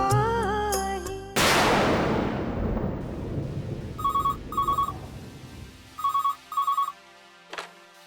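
A telephone rings in two short double bursts, then again after a pause, sounding over a low rumble like a thunderstorm with rain and following a brief musical sting.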